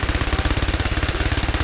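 Rapid automatic gunfire in a video game, a steady, evenly spaced stream of loud, close shots firing at high speed for the whole short burst.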